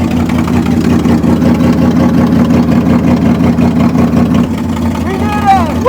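An old C60 Viking car engine idles steadily and loudly after sitting for 40 years, a low continuous rumble with a small fuel leak, while people talk over it.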